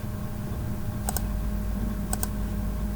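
Two brief pairs of keyboard clicks over a steady low hum, quiet and close, with a pause between them, typed during a Pokemon Revolution Online tournament.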